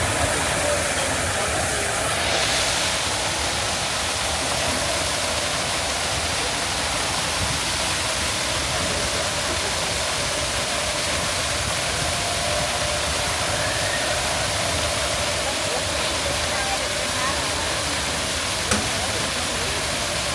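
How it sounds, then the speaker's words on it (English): A waterfall at Disneyland, a steady close rushing roar of falling water that holds unchanged for the whole stretch, with faint outdoor ambience and no talk. "I'm just gonna stare at this waterfall"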